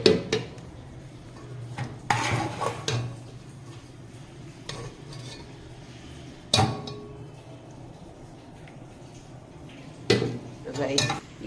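Fried onions scraped and tipped into a jug, with clattering metal spoon knocks against the pan and vessel in irregular bursts, over a faint sizzle and low background noise.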